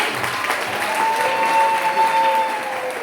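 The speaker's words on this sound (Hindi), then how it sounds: "हम एक बार जोर से ताली बजाएंगे।" Steady audience applause at a Christian women's empowerment workshop, a dense, even wash of clapping lasting a few seconds, with a faint sustained tone running beneath it.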